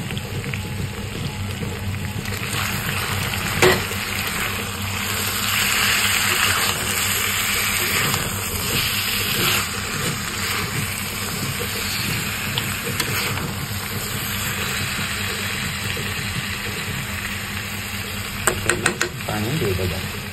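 Homemade desi chicken curry cooking in a pot, a steady close sizzle and frying hiss with scraping stirring, broken by a few sharp clinks near the end.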